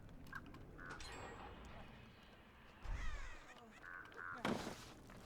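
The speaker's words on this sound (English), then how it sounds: "There's crows above my head." Crows caw several times overhead in a video game, short harsh calls scattered across a busy background with footsteps and thuds, while a person talks.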